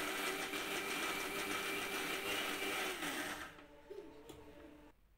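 A mixer grinder whirs loudly while grinding almonds into a paste for almond milk, a dense steady roar that cuts off after about three and a half seconds, followed by faint clatter and quiet.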